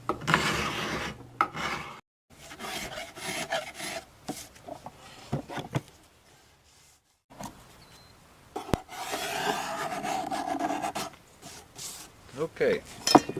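A blade scrapes along locust wood while shaping an atlatl outdoors, making repeated rough rasping strokes in close bursts separated by short pauses and a longer quiet gap in the middle.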